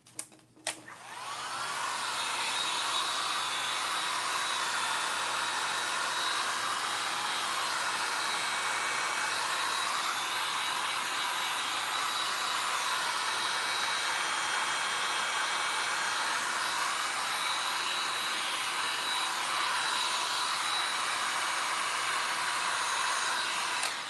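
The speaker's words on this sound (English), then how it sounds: "now I'm going to use the hairdryer" A hair dryer drying freshly brushed milk paint on furniture switches on after a couple of clicks, then blows with a steady, loud, close whooshing hum that runs unbroken to the end with no talk.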